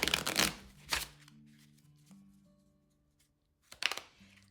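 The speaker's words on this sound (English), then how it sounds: "let's give it a shuffle" Two quick riffles of a card deck being shuffled up close, then a quiet stretch before a final short shuffle burst.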